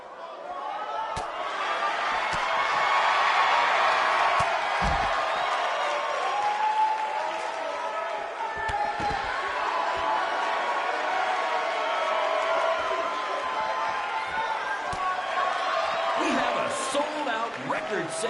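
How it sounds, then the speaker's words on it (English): Crowd cheering in the WWE 2K19 wrestling video game, a steady dense roar of arena applause and whoops with occasional slams and thuds, loud and continuous. "Record-setting crowd here for BCW tonight."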